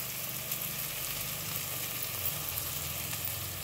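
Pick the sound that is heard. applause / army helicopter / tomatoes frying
tomatoes frying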